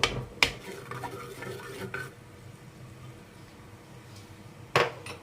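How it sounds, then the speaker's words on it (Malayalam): Cooked tomatoes are mashed in a pot of coconut milk rasam, with a few sharp scraping knocks of a utensil against the pot rim followed by softer stirring and squelching sounds, close up. "തക്കാളിയൊക്കെ നന്നായി വെന്തിട്ടുണ്ട് തക്കാളി ഒന്ന് ഉടച്ചു കൊടുക്കാം"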